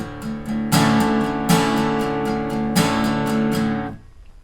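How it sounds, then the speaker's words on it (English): An acoustic guitar strums a steady, fast pattern for a song, with three heavier accented strokes standing out among the lighter strums, close and loud, then ringing out at the end. "So that's the strumming pattern with the accents."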